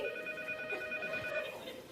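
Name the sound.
telephone ringing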